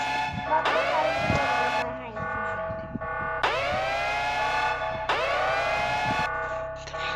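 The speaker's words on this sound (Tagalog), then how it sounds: "Di pa siya umi-stop yung makina niya" A Lamborghini engine revs hard three times in a row, each rise climbing in pitch, holding briefly, then dropping off. The revs are loud and close, with steady idling between them.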